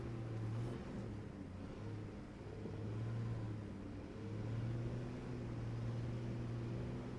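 A 4WD vehicle strains in soft ground, its engine droning and swelling in a low, muffled rumble as it revs in long, uneven surges without letting up.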